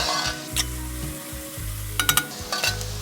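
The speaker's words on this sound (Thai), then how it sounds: "ผัดต่อเลยครับผักกาดดองผัดไข่เนี่ยผมจะผัดผักกาดดองให้สุกก่อนนะครับ" Pickled mustard greens stir-fried in a pan, a steady close sizzle broken by bursts of spatula scraping and tossing, with no talking.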